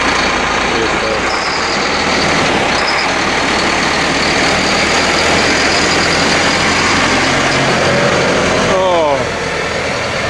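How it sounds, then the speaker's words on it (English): A heavy tractor engine, likely a Massey Ferguson 5711, rumbles loudly and steadily close by, with a faint voice underneath, then the sound shifts and eases slightly near the end as it drives away. "that tractor that's just gone"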